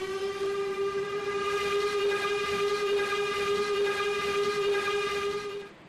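An LMS Coronation Class steam locomotive's whistle in the video game Trainz: A New Era blows in one long, steady, loud blast for several seconds before cutting off.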